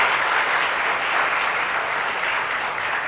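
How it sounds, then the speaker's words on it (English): An audience at a debate on screening and treatment in South East Asia applauds the team members, a sustained, even round of clapping filling the room for several seconds. "I'd like you to join me in applauding all the team members for such a job."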